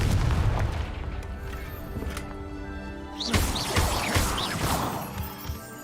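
A Confringo spell in the Hogwarts Legacy game goes off with a deep booming blast and crashing debris, loud and sustained, followed by crackling, whistling magical effects.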